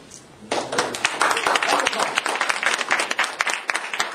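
Audience at a Toastmasters meeting breaks into applause after a short quiet start, close and lively clapping from a modest crowd that continues to the end.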